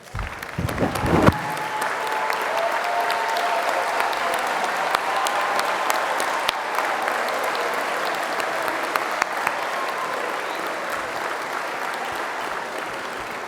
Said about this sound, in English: I would like to ask the Dean's List students in attendance to stand up for a round of applause